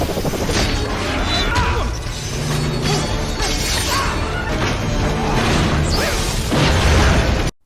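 A loud, dense crash and rumble of a big explosion in a video game, with debris and whooshing bursts, sustained throughout before cutting off abruptly.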